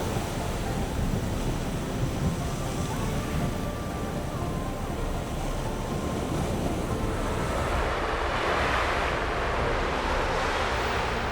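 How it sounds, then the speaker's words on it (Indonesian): Ocean waves roll in on the Biak Numfor coast while wind moves through the trees, a continuous surf roar with wind noise on the microphone that swells a little toward the end. "Disambut derunya ombak dan angin yang membelai pepohonan"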